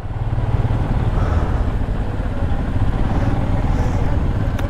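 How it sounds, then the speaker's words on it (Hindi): Motorcycles inching through a large traffic jam on the Leh–Manali highway near Sarchu, one a Triumph fitted with panniers; a steady, loud low engine rumble continues throughout with no clear pauses. "तो हमारी बाइक्स निकल रही हैं,"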